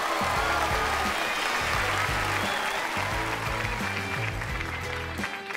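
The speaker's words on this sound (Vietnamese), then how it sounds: "Hãy dành một tràng pháo tay để chào đón cầu thủ Bùi Tiến Dũng" Audience applauding to welcome a footballer on a children's football show, steady crowd clapping with low music playing underneath.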